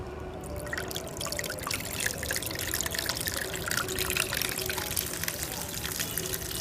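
A small DC30A-1230 DC water pump sprays water, giving a steady, fairly quiet hissing splash that runs unchanged throughout.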